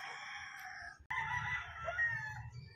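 A rooster crows loudly and close by, a long harmonic call broken by a sharp knock partway through, while a chicken is carried to a coop.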